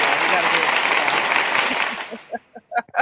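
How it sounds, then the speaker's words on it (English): An audience at a live poetry show applauds a poet, dense clapping that holds loud for about two seconds before thinning into a few scattered final claps. "Well, we gotta give him his applause."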